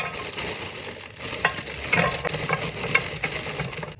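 Breakfast casserole being stirred and pressed in a hot pan, a continuous sizzle with repeated scraping strokes and soft utensil knocks, fairly close and without talk.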